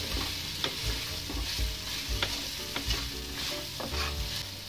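Okra stirred and frying in a pan with crushed green chili paste, a steady close sizzle with scraping stir strokes recurring throughout.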